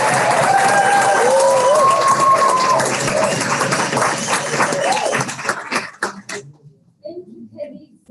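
Loud audience applause and cheering at a Public Protector South Africa clean audit celebration, a dense sustained roar of clapping with whoops that thins out into scattered claps and then quiet around six seconds.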